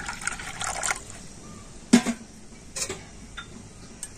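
Water poured into about four spoonfuls of vinegar while making paneer, a brief close trickle and a few light splashes and ticks over a quiet kitchen background.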